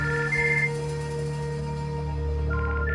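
A telephone ringtone chimes steadily in a soap-opera drama scene, its repeating electronic tones holding at moderate loudness over a sustained musical bed for the full three seconds.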